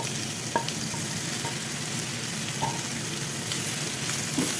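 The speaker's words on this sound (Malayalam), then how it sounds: "ഇനി അതിലേക്ക് ഞാൻ ചേർത്ത് കൊടുക്കുന്നത് ഗ്രീനും യെല്ലോയും റെഡും ക്യാപ്സിക്കം" Green, yellow and red bell peppers sizzle with chicken in a pan, a steady close frying hiss with occasional scraping and stirring knocks.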